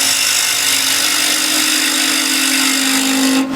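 A narrow negative rake scraper, about half an inch wide, shaves steadily across wood in a loud, continuous rasp that holds for several seconds before stopping abruptly, with no talk.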